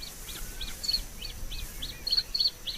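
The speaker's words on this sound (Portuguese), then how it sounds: "O canto do macho estabelece o território do casal." A male bluethroat sings in a spring reed bed, repeating short high chirping phrases with a steady rhythm over a low rumbling background.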